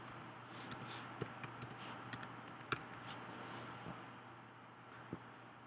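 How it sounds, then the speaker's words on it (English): Faint, scattered keyboard typing as form fields are filled in on a computer, irregular soft clicks spread across a quiet background hum. "you can just simply click and start typing."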